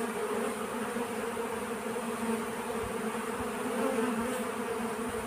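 Honey bees buzz densely inside an open hive among frames where nectar is being stored, a steady close drone of many insects with no voices.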